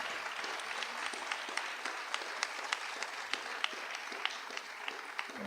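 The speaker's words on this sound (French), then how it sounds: "On peut les applaudir encore une fois." Audience at a French senator's first-year term report meeting applauds eight young people again, a steady wash of many clapping hands at moderate distance, continuous for the whole stretch with no talk over it.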